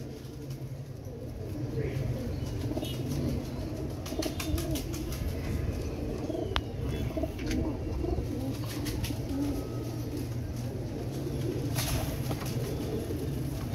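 Pet pigeons cooing in a loft, a steady low murmur of soft overlapping coos that fills the whole stretch, with faint chirps and background noise.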